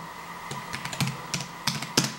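Light, irregular keystrokes on an Anker TC980 keyboard case for iPad Air, about a dozen soft clicks in uneven bursts, close and clear with no speech.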